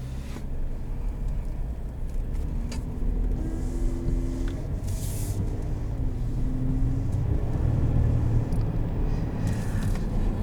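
A 2020 Chevrolet Silverado 1500 Trail Boss pickup pulls away, with a steady low engine rumble and tyre noise heard from inside the cab and rising slightly toward the end.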